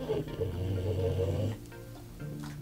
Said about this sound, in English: Sorry if you hear snoring. It's just the dogs.